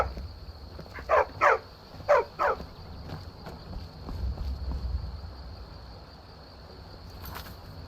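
Two pairs of sharp, close barks from a dog in the video game Skyrim ring out over a steady wind-like ambient drone and low rumble, then fade into the background noise.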